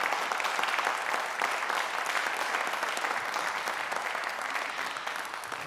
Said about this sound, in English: let's give a big, big, big round of applause to our 5 winners tonight